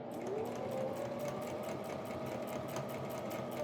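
A sewing machine stitches fabric for a dog bed, with a steady, fast mechanical whir and needle rattle running continuously at moderate volume.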